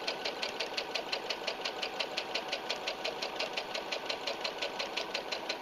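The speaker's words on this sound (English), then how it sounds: "Push the button again, and it will sew." A Brother SE 350 embroidery sewing machine stitches in a fast, steady mechanical rhythm. The close, even needle hammering holds throughout, with no talking.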